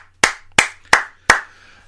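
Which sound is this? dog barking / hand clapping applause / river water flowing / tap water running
hand clapping applause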